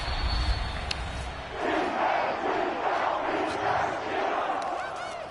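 A football video game crowd roars loudly and continuously, a dense chanting swell that rises after the first second and holds steady.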